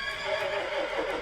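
A ghostly, semi-transparent horse in the video game West of Loathing lets out a single drawn-out whinny, bright and fairly close, alone without talk.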